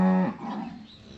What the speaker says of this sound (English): Now pretty much all the bawling that you hear is just, you know, cows are upset that they don't have a new bale yet